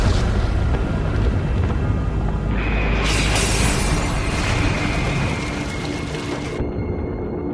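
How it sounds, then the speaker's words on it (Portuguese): A huge explosion rips through a warship at sea near midnight, a deep sustained rumbling roar with a bright crackling burst partway through, loud and alone without voices. "eu senti o choque de uma enorme explosão."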